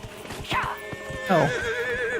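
A horse in a Dragon Age: Inquisition video game whinnies loudly, followed by a second, wavering neigh, with hooves clip-clopping underneath.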